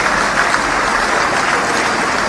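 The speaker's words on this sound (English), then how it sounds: "Please clap for this minister." Audience applause at an Air Peace airline anniversary event in Nigeria, honouring a government minister: dense, steady clapping from a crowd, loud and continuous for a couple of seconds with no pauses.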